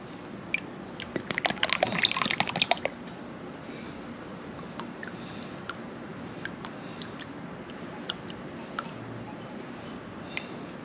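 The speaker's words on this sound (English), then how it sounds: "But I'm going to just pour this oil in here." Engine oil poured out of an Audi A4 that drove off the road and holed its oil pan, a brief liquid pour up close with splashing and trickling, then quieter scattered ticks and drips.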